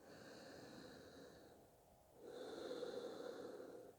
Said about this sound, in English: Deep breathing in and out through your nose.